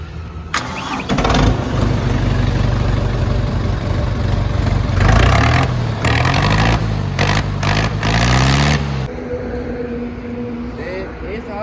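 A modified Swaraj 855 tractor engine cranks and starts, then idles with a loud, steady rumble and revs briefly before dropping away near the end.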